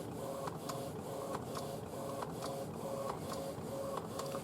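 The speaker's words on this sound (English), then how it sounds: "you can see it slowly printing the picture" An Epson P700 photo printer printing a 4x6 photo, with a steady mechanical hum broken by regular clicks and short whirring feed pulses repeating about every half second.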